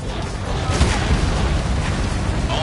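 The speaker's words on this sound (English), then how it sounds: "All missile silos have been destroyed." Missile silos blow up in Ace Combat 7: a dense, continuous low booming rumble of blasts that swells slightly partway through, with a voice talking over it.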